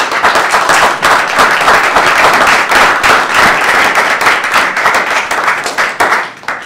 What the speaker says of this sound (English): We can get another round of applause to our panelists.